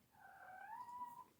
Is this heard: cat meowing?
yes